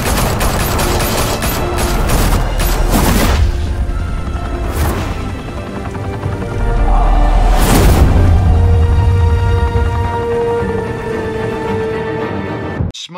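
Sustained gunfire fills a scene in the Batman Telltale video game, a dense, loud fusillade of overlapping shots and crashes running for over ten seconds with bursts swelling around the middle.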